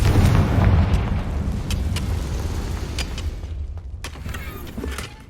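A Confringo fire spell bursts in the Hogwarts Legacy game on PS5, a loud booming blast that rumbles low and fades over several seconds with faint crackles after.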